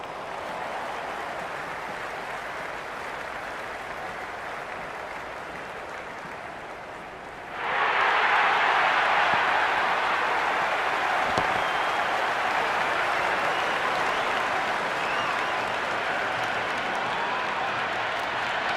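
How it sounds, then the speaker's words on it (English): The stadium crowd in the video game Cricket 26 sits at a low murmur and then erupts into loud, sustained cheering and applause that holds for about ten seconds. "There's a buzz, a real buzz coming from the stands."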